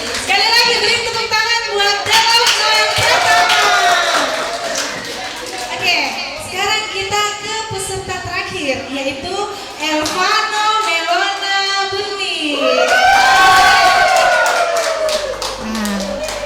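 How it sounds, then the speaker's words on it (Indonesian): Clapping from an audience at a Christmas camp storytelling competition for children, with a child's speech and several voices talking over the sparse, uneven claps throughout. "Sekali lagi beri tepuk tangan buat Delov Noel Pratama"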